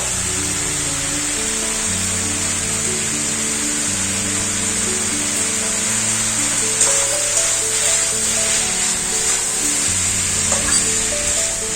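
Ridge gourd and onion frying in a pan, with a steady bright sizzle that runs unbroken and close throughout, plus faint stirring scrapes near the end.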